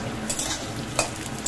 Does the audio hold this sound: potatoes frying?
yes